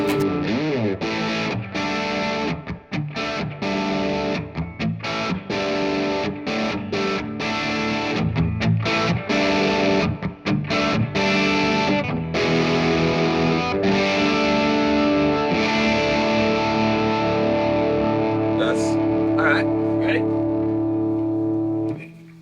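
A heavily distorted electric guitar plays chords and sustained notes, loud and close, with a ringing held note near the end.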